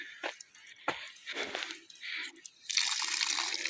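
Water runs and drips from a tap at a house in Kathuli village in the Uttarakhand hills, starting as uneven splashes and drips, then settling into a steady, close hissing flow.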